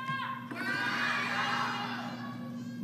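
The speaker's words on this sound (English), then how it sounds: "now the crowd starting to cheer for Sun Yingsha" At a 2025 US Smash women's singles table tennis match, an arena crowd cheers and shouts in a sustained, fairly distant roar with high-pitched voices mixed in.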